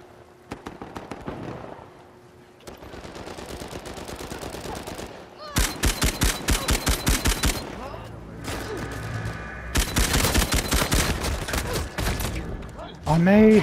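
Bursts of gunfire in the video game Uncharted 4, rapid automatic volleys and sharp repeated shots arriving in loud clusters separated by brief pauses, with heavy close firing toward the end.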